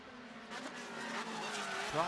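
Mazda MX-5 Cup race cars battle at Mid-Ohio, engines droning steadily while tires squeal in rising, wavering streaks, with a sharper screech near the end and commentary talking over the action.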